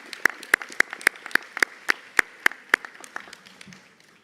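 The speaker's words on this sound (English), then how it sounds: "Let's give him a round of applause." Sparse, evenly spaced claps ring out through a school assembly hall for Year 5 student Jackson Matthews, a dozen or so sharp hits that thin out and fade toward the end, with no talking over them.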